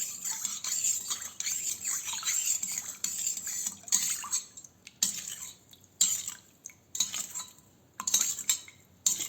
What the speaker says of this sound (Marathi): त्यानंतर 2 चमचे यामध्ये पिठी साखर घालायची आहे आणि हे छान असं मिक्स करायचं आहे